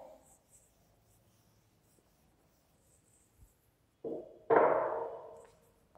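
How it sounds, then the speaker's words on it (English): Chalk or marker strokes on a classroom board during a maths lesson, quiet scratches at first, then two louder rubbing or writing strokes near the end, close and alone. "So let me rub this and write down the next step."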